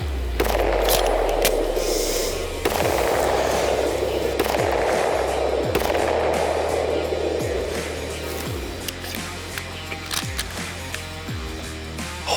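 Glock 19 firing Liberty Overwatch 9mm hollow point rounds outdoors, a string of about ten sharp, loud cracks with echoing tails, spaced at roughly one-second intervals.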